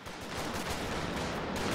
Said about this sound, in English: MG locking down the VP.